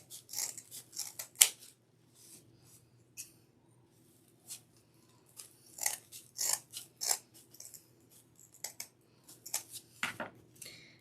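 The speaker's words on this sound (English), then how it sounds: "I'm going to cut both ends." Scissors snip craft material for a Dollar Tree heart wreath, giving a series of short, crisp cuts in irregular bursts with pauses between, close and fairly quiet.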